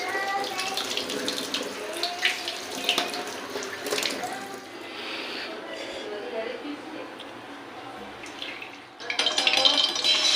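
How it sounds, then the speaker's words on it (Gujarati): Cold tap water runs into a kitchen sink as spinach leaves are rinsed, a splashing stream that shifts with handling and surges louder at the end, with voices talking intermittently over it. "પાલકને ઠંડા પાણીમાં ઠંડા પાણીમાં પછી ધોવાની"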